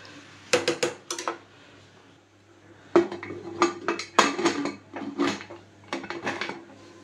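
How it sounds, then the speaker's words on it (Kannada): A pressure cooker lid is handled and closed, giving a run of loud, close metallic clanks and scrapes in irregular bursts with short pauses between them. "ಲಿಡ್ ಕ್ಲೋಸ್ ಮಾಡಿಬಿಡೋಣ."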